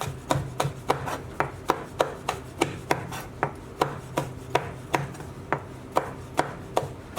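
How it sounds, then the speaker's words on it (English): A knife finely chopping a long red chilli on a board, with quick, even, sharp taps repeating steadily and close, clear and alone over a faint background. "So we'll take the stem off, and we just want to finely chop this up"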